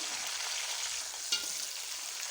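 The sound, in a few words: stirring tomatoes and green chilies into frying onions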